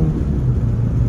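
A Fiat Strada pickup loaded with 500 kg of cargo, its engine droning and revving hard toward 5,000 RPM on a rough country road, a loud, steady low rumble heard from inside the cab.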